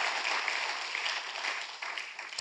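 A church congregation claps continuously in dense, steady applause, heard from a bit of a distance, with no voices.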